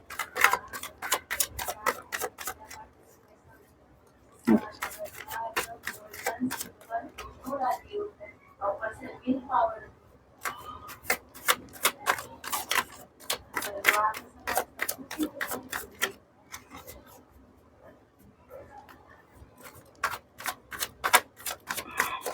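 Tarot cards shuffled by hand during a reading, a run of crisp, quick riffling clicks in repeated bursts with short pauses, close and moderately loud, with someone speaking over and between them.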